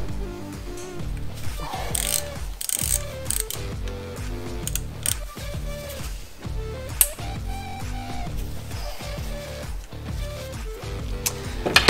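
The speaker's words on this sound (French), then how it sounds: "on va défaire les 3 vis ici en Torx après" A ratchet works loose three Torx screws on a forged BMW M52TU B28 engine during a teardown, with fast bursts of mechanical clicking and metallic knocks, close and continuous.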